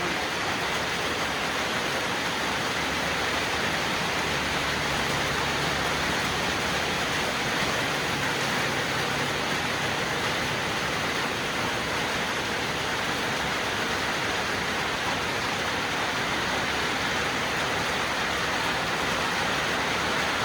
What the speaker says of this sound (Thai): ตรงนี้ฝนนะพี่น้องตกได้ตกดีเลย